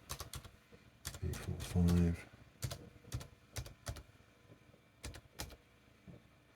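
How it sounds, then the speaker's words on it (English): Someone types on the keyboard of a DEC HiNote VP TS30G laptop with sharp, close plastic key clicks in irregular bursts and pauses, including one quick flurry, while someone speaks a few words. "Okay, keyboard test."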